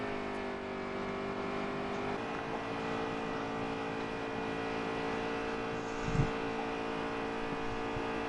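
Stock race car engine at Darlington in a racing video game, a steady, droning engine note holding for several seconds with a short thump near the end.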